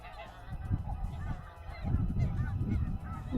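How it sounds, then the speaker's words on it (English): A large flock of geese honking continuously at a distance at Edwin B Forsythe wildlife refuge, a dense overlapping chorus that grows louder in the second half. "There are more geese over on this side."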